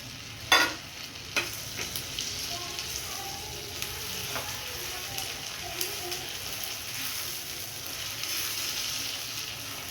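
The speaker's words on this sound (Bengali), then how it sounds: "পোস্ত আর কাজু দিয়ে ভাজা ভাজা করে নিয়েছি" Steady, close frying sizzle of cashews and poppy seeds with onion and chilli, light stirring scrapes and a sharp clink near the start, continuing evenly throughout.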